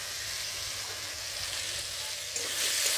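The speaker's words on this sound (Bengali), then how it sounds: "গুগলির আলুগুলো একটু ভাজা করে নেব।" Potatoes for a snail (googli) dish frying in oil in a pan, a steady close sizzle throughout that swells a little louder near the end.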